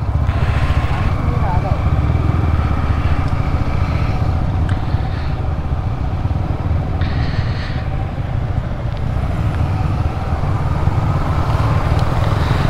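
A group of motorcycles rides slowly over a badly damaged road at night, making a continuous loud rumble of engines and road noise. People talk over the din.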